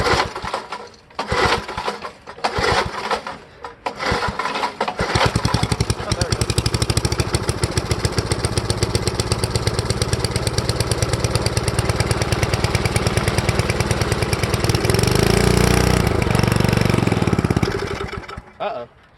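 A vintage Parker thatcher's small engine is cranked with a few sputtering pulls, then catches and runs loud and steady for over ten seconds with a rapid rhythmic chug before shutting down. A voice talks briefly near the start.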